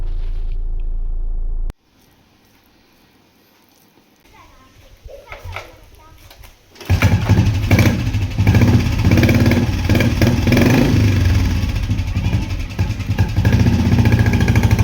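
Motorcycle engine starting up and running steadily, loud and close, after a quieter stretch with faint background sounds and children's voices.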